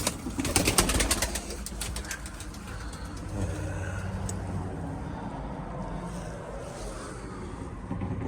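Soft pigeon coos drift through a steady background hum, with a clattering burst early on and low murmuring throughout.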